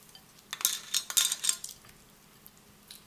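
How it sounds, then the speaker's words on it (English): A spoon stirs salt into raw chicken pieces in a bowl, making a few close scraping, clinking strokes that grow quieter toward the end, with no talking. "If you want, you could use a spoon to mix it with"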